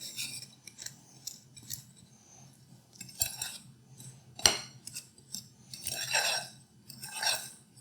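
A small fork stirs a brown-sugar blueberry crumb coffee cake batter in a bowl, giving scattered clinks and scraping rubs of metal against the dish, close and fairly quiet over a low steady background hum.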